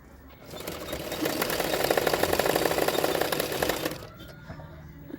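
A sewing machine stitches along the lower belt of a double katori blouse. The motor runs in a steady, dense whir for about three seconds, then slows and stops. A few light mechanical clicks come before and after.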